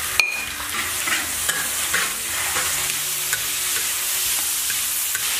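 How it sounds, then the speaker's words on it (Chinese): Meat is stir-fried in hot oil in a wok for a home-style green bean and dried potato stew, giving a loud, steady sizzle with repeated scraping stirs and a utensil clink at the start. "肉菜爆锅"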